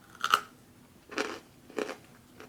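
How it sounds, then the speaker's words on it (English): Three separate crunching bites into freeze-dried peach ice cream, the first loudest with a crisp crackle and two softer, shorter crunches following at about half-second gaps, close up with no talking. "if you've had astronaut ice cream, it's got that familiar crunch and then creaminess to it."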